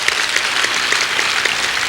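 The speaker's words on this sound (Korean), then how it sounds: "믿으면 박수치며 하나님께 영광을 돌리시기 바랍니다" A Sunday church congregation claps together in a steady, fairly loud burst of rapid applause filling the room, with no speech.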